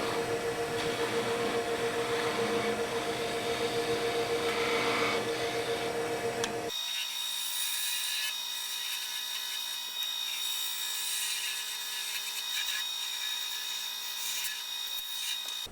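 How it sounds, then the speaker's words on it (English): A wood lathe turns a handle while a spindle gouge cuts it, giving a loud, continuous rubbing, whirring hum that suddenly drops to a thinner, steadier tone partway through. "I'm working the spindle gouge with one hand and using my left hand to catch the handle when I cut it loose from the chuck"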